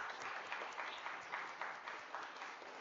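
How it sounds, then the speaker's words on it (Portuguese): An audience at a business conference on technology and tax reform claps steadily, a dense, even wash of hands heard from a middle distance with no voices over it. "Então, por favor, uma salva de palmas."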